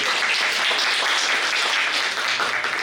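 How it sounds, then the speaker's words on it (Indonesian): An audience claps steadily in a dense, continuous burst of applause with no voices over it. "Mungkin tepuk tangan untuk Dokter Yanti."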